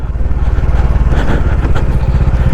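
A Bajaj Dominar 400 motorcycle engine drones steadily under the rider while cruising a rough shortcut road toward a highway, a loud, close, continuous low throb with a slight mechanical clatter and no speech.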